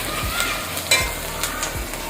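Green garlic dropped into hot tempering oil for a desi-style spiced millet rotla, giving a steady close sizzle and frying hiss with a few soft stirring knocks and no talk.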